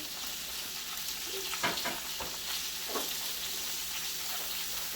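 Omelet filling with pre-cooked meat fries in a pan and gets stirred, a steady soft sizzle broken by a few brief scraping strokes, fairly quiet and without talk.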